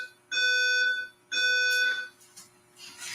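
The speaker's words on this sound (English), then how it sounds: "fire alarm. attention, an emergency has been reported." Building fire alarm sounding in two loud, sustained electronic bursts of steady harmonic tone, each about two-thirds of a second, separated by a short gap, with a fainter burst trailing off at the end; no voice announcement is evident.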